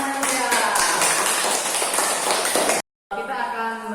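Classroom applause at the end of a student presentation in an Indonesian religious studies lesson: a dense, steady burst of many hands clapping for nearly three seconds, a brief cut to silence, then the clapping resumes.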